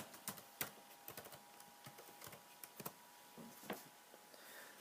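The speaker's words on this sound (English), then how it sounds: "Excuse me while I type in the password right quick." Fingers typing a password on a laptop keyboard, quick irregular clicks in short bursts, quiet and close, with no voices.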